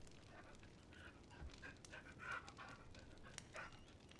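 A dog in the abbey garden of the video game Pentiment pants quietly, with soft rapid breaths and a few faint whimpering yips, fairly close and alone.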